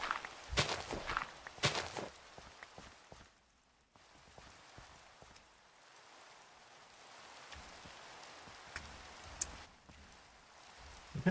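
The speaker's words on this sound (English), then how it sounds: "I can hear some footsteps." Footsteps in Minecraft on a small floating island: a run of quick, crunchy steps near the start, then quieter scattered steps under a steady rain-like hiss. No voices.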